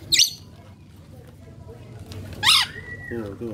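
A rainbow lorikeet gives two sharp, shrill squawks during its bath, one at the start and one near the end, over a low background hum while a person talks.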